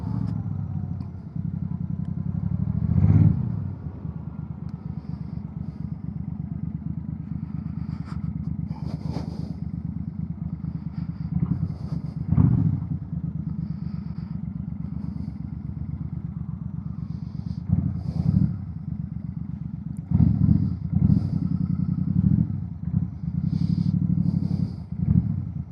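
A motorcycle engine idles steadily nearby, a constant low rumble with occasional clattering and scraping noises and brief louder surges, no talking.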